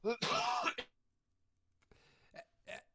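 A sharp, throaty cough bursts out up close, followed after a pause by a couple of softer throat-clearing sounds.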